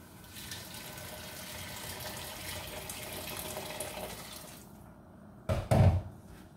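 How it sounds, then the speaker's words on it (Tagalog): Boiling water poured into a cooking pot for jareesh at home, a steady splashing stream running for several seconds before stopping, followed by two short, sharp clunks close by. "boiling water"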